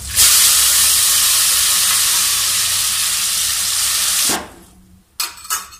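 Tomatoes tipped into a hot pan set off a loud, close sizzle that holds steady for a few seconds, then dies down into short bursts of stirring and spitting.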